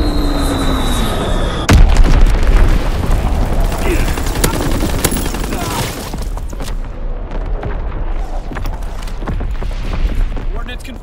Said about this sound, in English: Dropping Azon bomb. Firing battery one.